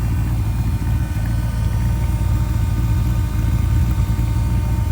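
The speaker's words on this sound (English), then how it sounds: "Just go around the back so you can hear the exhaust." A 1954 Chevrolet Del Ray exhaust burbles at idle, a deep, steady low rumble close by with no one speaking.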